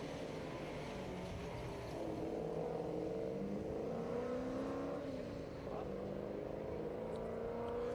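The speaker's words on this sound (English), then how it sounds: "Phil Walters leaves the line in the Capri Piranha." Capri Piranha race car with a 347 Windsor V8 and five-speed box pulling away from the start line at a historic sprint meeting, a steady loud engine drone that rises in pitch as it accelerates, with no talk.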